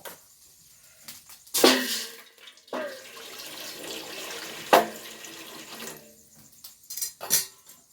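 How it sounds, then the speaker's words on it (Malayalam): Water poured into a pot of sambar for an Onam meal comes in several short splashing bursts, with quiet gaps between them and no talking. "ഇനി ഇതിലേക്ക് കുറച്ച് വെള്ളം ഒഴിച്ചു കൊടുക്കുക"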